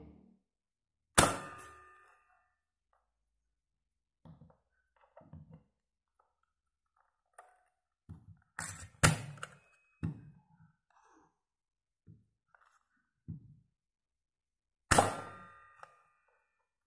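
A 1980s Strike Force KG-9 toy pistol fires in a quiet room, giving four sharp, bright clacks spread across the stretch, two of them close together, with faint handling noises between.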